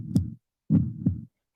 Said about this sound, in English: when you guys hear the heartbeat, that means you got 30 more seconds for your take